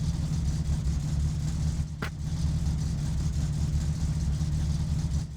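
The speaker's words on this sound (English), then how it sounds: "Okay, that just sounds like a normal running car." A steady car engine idles in a driving video game, a constant low rumble with a smooth running tone throughout, broken by one brief click near the middle.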